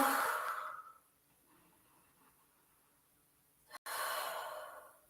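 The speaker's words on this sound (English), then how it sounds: "That's me forcing my breath to the ground." Forceful exhalations during an exercise sequence, a long hard breath pushed out, a pause of near-silence, then a second strong breath, close and alone.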